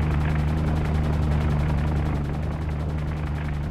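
An aircraft approaches a submarine in the naval video game UBOAT, its engine a loud, continuous droning roar with a fast rhythmic throb that fills the whole stretch without letting up.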